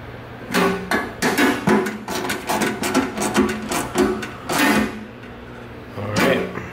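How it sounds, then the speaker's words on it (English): Ground wires are clamped down inside a Grindmaster 875 with a 9mm tool, producing a close, loud series of sharp metallic clicks and rattling taps in quick irregular bursts, followed by a short pause and one last clatter. "Go ahead and clamp these down."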